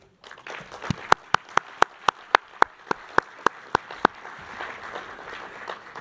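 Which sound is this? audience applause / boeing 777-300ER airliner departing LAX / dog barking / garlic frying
audience applause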